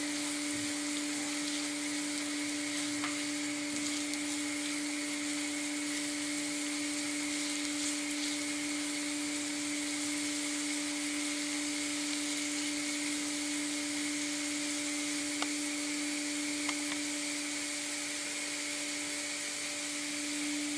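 Oyster mushrooms fry in a pan with a steady, even sizzle that runs unbroken throughout, over a constant low mechanical hum.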